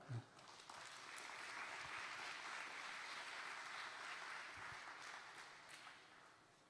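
An audience at a high school's 100th anniversary ceremony gives warm applause to students and their teacher, a swelling, sustained clapping that fades slightly toward the end, heard from a distance.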